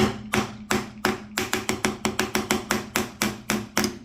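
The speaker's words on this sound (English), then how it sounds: "To re-hammer this in over here, there you go. I just use a small bodywork hammer." A small bodywork hammer taps a rubber garage door seal into place, about fifteen sharp, close knocks in a quick, slightly irregular rhythm, alone without talking.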